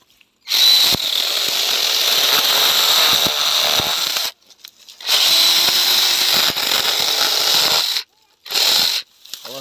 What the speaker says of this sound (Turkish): Şu dalı kesiyorum buradan.